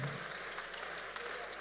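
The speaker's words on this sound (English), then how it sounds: "clap your hands very well." A church congregation at a monthly mountain prayer service claps their hands, producing a dense, continuous wash of applause throughout.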